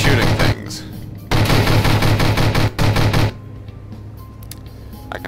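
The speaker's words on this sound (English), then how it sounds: "have a little montage of me shooting things" Rapid automatic gunfire from the video game From The Depths comes in three loud, dense bursts, the middle one longest, followed by a quieter stretch of low rumbling background.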